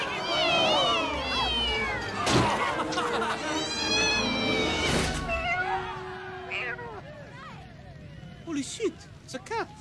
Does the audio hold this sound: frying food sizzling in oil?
no